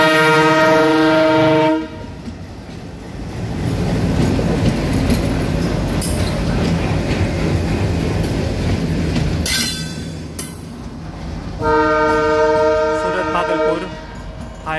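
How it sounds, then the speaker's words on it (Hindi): A twin set of Itarsi WDM3 diesel locomotives coming in for a Surat Express link, sounding long loud horn blasts at the start and again near the end, with a heavy rumbling engine and wheel noise in between. "इटारसी का WDM3 है ट्विन लोको, ट्रैक चेंज करके सूरत एक्सप्रेस का लोको लिंक आज ऐड होने के लिए आता हुआ"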